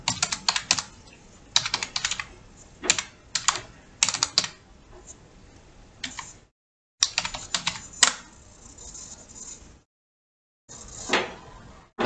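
Quick bursts of clicking keystrokes on a computer keyboard as a username is entered, close and clear, separated by short pauses and brief silences.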